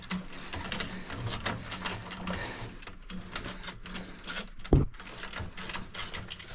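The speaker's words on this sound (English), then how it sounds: "Grab our socket wrench here." A socket wrench running down bolts on a leaking well pump gives rapid, continuous ratcheting clicks close by, with one sharper clunk near the end.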